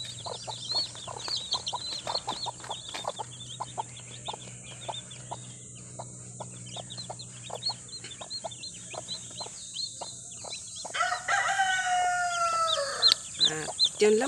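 Chickens on a Filipino backyard farm with a newly hatched chick: repeated close clucks and peeping chirps throughout, rising into louder calls and crowing-like cries near the end.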